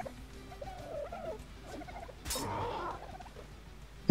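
A seagull-like bird in ARK: Survival squawks and cries in a short burst of in-game calls, fairly close, over a low game ambience, then a brief louder noise at the very end.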